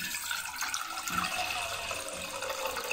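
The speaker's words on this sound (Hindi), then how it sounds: "चाय बनाने के लिए सबसे पहले मैं इसमें 2 कप पानी के ऐड करूँगी।" Two cups of water poured into a pot for Pakistani karak chai, a steady splashing pour heard close up for about three seconds with no talking.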